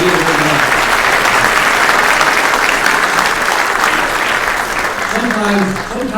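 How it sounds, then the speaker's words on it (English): A banquet-hall audience at an award dinner honoring someone applauds the servers, with dense, sustained clapping that fills the room and holds steady for several seconds, tapering slightly near the end as faint voices surface. "how about a nice round of applause for our servers and the meals tonight"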